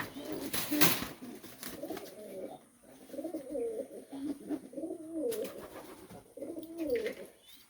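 Pigeons coo repeatedly while bathing in hot weather, the soft rolling calls returning in bursts throughout, moderately close, with a brief splash or flutter early on and faint background voices.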